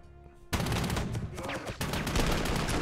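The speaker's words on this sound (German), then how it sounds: "Dann kann der Mörser drauf schießen." Sustained battle noise from the strategy game Panzer Corps 2 as a mortar fires, a loud burst of gunfire-like blasts that starts abruptly after a quiet moment and keeps rolling, with a second hit partway through.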